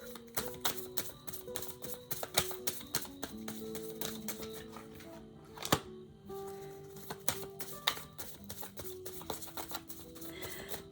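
A deck of tarot cards shuffled by hand, a long run of quick crisp riffling clicks and taps in uneven bursts, close but fairly soft, with no talking.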